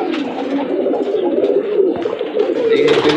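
Cross-bred domestic pigeons from a small home farm, a cross between a breed and local pigeons, coo loudly and continuously close by, forming a dense, throaty murmur for several seconds.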